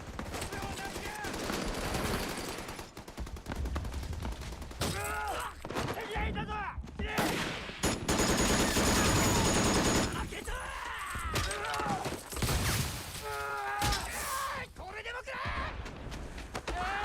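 Machine-gun fire in a World War II Pacific battle scene from a war drama, sustained rattling bursts mixed with explosions and shouted voices, loud and chaotic throughout.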